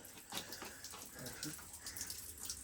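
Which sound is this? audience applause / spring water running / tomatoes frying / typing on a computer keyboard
spring water running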